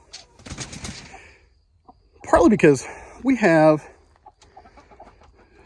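Four chickens cluck inside a small 4 by 6 foot coop and run, with short bursts rising between stretches of a person talking nearby.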